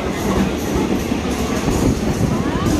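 Local train pulling into Panskura station on the line toward Digha, a steady rumbling roar of rolling carriages with faint clatter, close by and continuous throughout.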